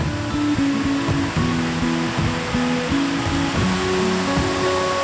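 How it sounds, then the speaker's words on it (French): Tsuchiat Falls on the West Coast Trail, a steady, loud broadband roar of falling water with no break, close by and alone. "d'autres préfèrent savourer le spectacle des chutes de Tsuchiat"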